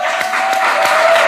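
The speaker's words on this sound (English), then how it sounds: "let's give a big applause to the Fundación for organizing this." A conference audience at a Papiamentu language event bursts into a short, dense round of applause, steady and close.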